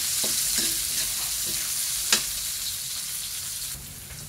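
Onion sautéing in a hot pan for chicken tinola, a bright continuous sizzle with a few soft scrapes of a spatula and one sharp tap, close and steady.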